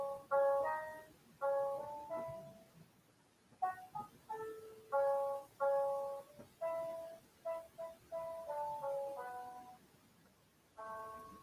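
A passing ice cream truck plays its chiming jingle: repeated bright tonal melody phrases in bursts, fairly faint and distant, with no talking over it.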